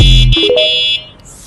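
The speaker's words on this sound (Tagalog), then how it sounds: "At busina niya mga master. Malakas na din po yan." A loud electronic horn on a foldable electric bike blares for about a second with strong steady tones, then cuts off, leaving faint background noise.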